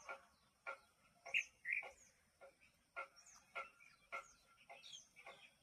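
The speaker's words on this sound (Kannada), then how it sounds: "ಪಕ್ಷಿಗಳ ಸದ್ದು ಶಿಲಿಪಿಲಿ ಸದ್ದು ಹೀಗಿದೆ" Early-morning birds chirp in repeated short bursts, a lively rhythmic series of high calls spaced about half a second apart, fairly faint and nearby, with no talking.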